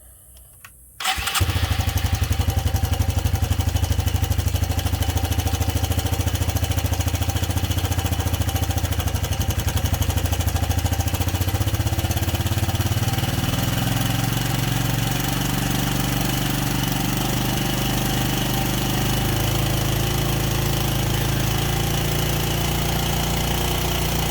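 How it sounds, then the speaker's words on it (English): A Suzuki LT 160 ATV engine starts after a short quiet moment, then idles steadily and loudly while its carburetor air-fuel mixture is adjusted, the idle settling slightly lower over time. "when I'm adjusting the air fuel mixture, it should either idle down, it should drop the idle, or the idle should come up"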